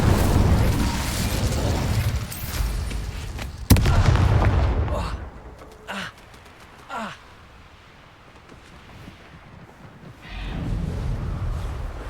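Incendio fire spell blast in Hogwarts Legacy, a sharp burst followed by rushing, whooshing fire and a few smaller impacts, then a quieter lull before rumbling combat noise returns.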